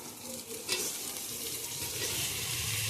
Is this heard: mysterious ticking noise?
no